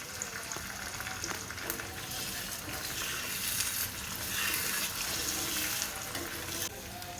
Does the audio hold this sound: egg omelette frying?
yes